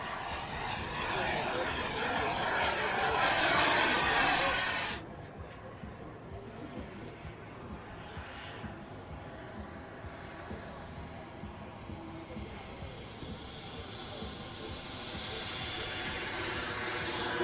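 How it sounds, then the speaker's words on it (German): An F-16 jet on landing approach and touchdown at a Cottbus air show, a broad roaring engine rush that is loud for the first few seconds, drops away, then swells again toward the end, with people talking faintly throughout. "Landeanflug und Landung"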